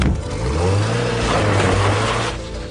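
A very small car with a small boot pulls away toward the border, its engine revving and accelerating in a steady, close drone that holds for nearly three seconds and then eases off.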